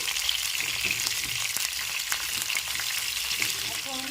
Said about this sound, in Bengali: এবার নেড়ে চেড়ে ভেজে নিচ্ছি